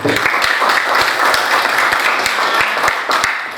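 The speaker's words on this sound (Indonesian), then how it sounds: "tepuk tangan dulu buat Mahima" Students in a classroom applaud for Mahima, a lively, fairly close round of clapping with distinct sharp claps throughout that tapers off slightly at the end.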